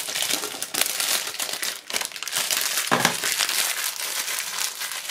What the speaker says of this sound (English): I love that they have the loud kind of plastic. Not that mushy junk. The stuff that makes noise.